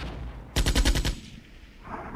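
A short, rapid burst of infantry rifle and machine-gun fire from a squad in the war strategy game Armored Brigade rattles loudly for about half a second over steady background battle ambience.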